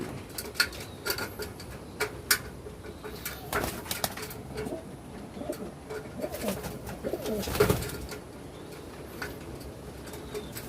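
Racing pigeons coo softly in a loft, amid wing flaps and light pattering movements; someone talks intermittently over the birds throughout.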